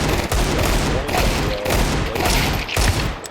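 Glock pistol bursts in burst-fire mode in Counter-Strike 2, heard as several loud, rapid clusters of gunshots close up, with brief gaps between bursts and a player speaking faintly.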